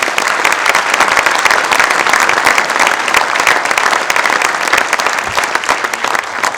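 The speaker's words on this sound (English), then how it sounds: "let's give them a round of applause" An audience at a World War II film screening in Springfield, Illinois gives a loud, dense, steady round of applause for the panel members. The clapping continues without a break from start to finish.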